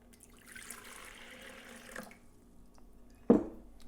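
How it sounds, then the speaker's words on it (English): Quiet splashing and swishing of distilled water sloshed around a bucket, faint and close, ending with a sharp knock or thud near the end. "Slosh it around in the bucket to wash away any standing hydrogen peroxide."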